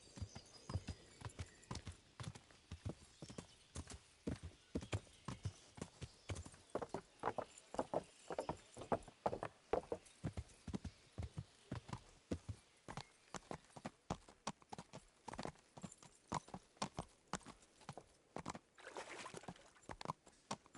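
Horse hooves clop in a steady, rhythmic trot for the whole stretch in the video game Kingdom Come: Deliverance, crisp and fairly close, with no other sounds competing.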